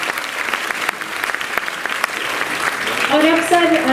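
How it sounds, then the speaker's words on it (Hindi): An audience applauds at an award ceremony in Delhi honouring disabled people and Special Olympics awardees, with steady, dense clapping throughout and a voice rising over it near the end. "तो हम ये चाहेंगे कि जोरदार तालियां हम अपने उन सभी बच्चों के लिए, भाई बहनों के लिए"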